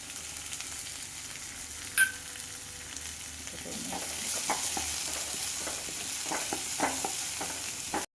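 Coconut pieces fry in coconut oil in a pan for a beef dish, a soft, steady sizzle broken by the occasional scrape and stir of a spatula, with one sharp clink near the start.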